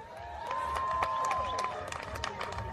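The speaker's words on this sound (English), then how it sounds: "Do you think the fighters deserve a big round of applause?" Crowd at a kickboxing event, after a WMC super heavyweight title bout, cheering and applauding loudly and steadily, with a sustained tone and an announcer's voice partly over the noise.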